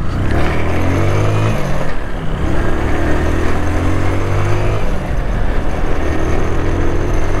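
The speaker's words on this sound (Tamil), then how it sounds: "வண்டி ரொம்ப முறுக்குறேன் ஆனால் போக மாட்டேங்குது. பாருங்க, ஃபுல் ஆக்சிலேட்டர் தான் கொடுக்குறேன் ஆனால் போகல." Engine revving hard at full throttle while the vehicle stays put, a loud sustained roar that wavers in pitch, dips briefly and then climbs again, close by with no talking.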